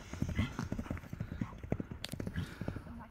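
A large European horse's hooves thud and clop in a close, uneven rhythm of many strikes, with someone talking faintly in the background.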